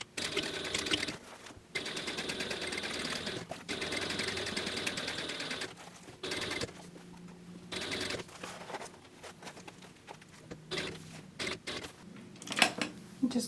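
A sewing machine stitches close to a seam on a fabric book bag in short, stop-and-start runs with quiet gaps between them, including slow hand-cranked movement.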